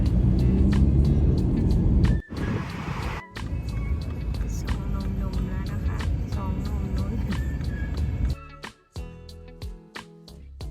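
A car drives along a road past a church, with a steady rumble of engine and road noise heard from inside the cabin for the whole stretch, briefly dipping a couple of times.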